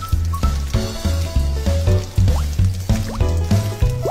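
Rainwater drips through a neglected leaking roof, falling in a steady run of distinct plopping drops about twice a second, each with a hollow watery fill tone, close and clear with no talk.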